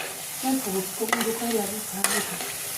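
Green pea fritters (bhaje) deep-frying in oil, a soft, steady bubbling sizzle heard fairly close with a couple of light utensil taps, no talking.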